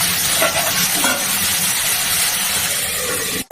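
Food fries in a pan with added salt and turmeric for a vegetarian meal on a gas stove turned low: a loud, continuous, close sizzle and crackle that runs steadily to the end, with no voices.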